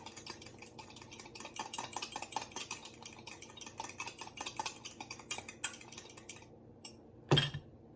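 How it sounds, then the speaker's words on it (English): Salad dressing for a carrot and chickpea salad whisked together in a bowl, a steady run of quick clinking metal taps for about six seconds, then a pause and one louder knock near the end, with no talk. "And then we just whisk it together."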